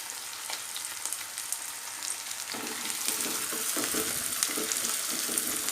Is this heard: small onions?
yes